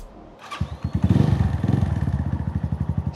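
A motorcycle engine fitted with an aftermarket exhaust pipe starts up and settles into a loud, close, lumpy idle with a regular throbbing pulse, no talk.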